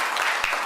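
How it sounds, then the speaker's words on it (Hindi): Brief burst of audience applause at a Kolkata city official-language implementation committee meeting, a dense wash of clapping heard for a fraction of a second. "उनका हम तालियों से अभिनंदन करेंगे"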